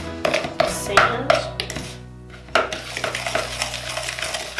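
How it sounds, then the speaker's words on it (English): A spoon stirs a bath bomb mixture in a bowl, with close clinks and knocks on the bowl's sides followed by a continuous gritty scraping as the sandy mix is pressed and stirred. "Okay, so I grabbed a spoon and now we're gonna mix it up."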